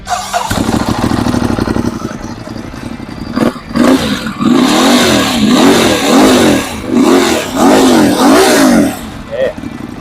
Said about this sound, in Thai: เดี๋ยวฟังเสียงเครื่องยนต์กันหน่อยนะครับ